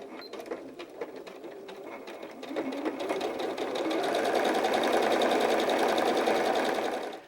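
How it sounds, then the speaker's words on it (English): A sewing machine stitches doll arms and legs right sides together with a quarter-inch seam, backstitching at each end. Intermittent close whirring gives way to a steady, louder run of rapid stitching that continues to the end. "I'm going to start by sewing the arms and legs right sides together"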